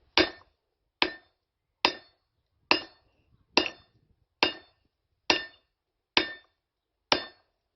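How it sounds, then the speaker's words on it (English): Hand hammer striking a big piece of hot steel to flatten it, nine sharp ringing blows in a steady rhythm about a second apart, each with a bright metallic ring that decays quickly, close and loud with no talking. "next step is to try and hammer it flat"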